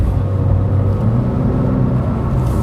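Base Porsche 911 engine while driving, a steady low rumble from inside the car, loud and even with no talk over it.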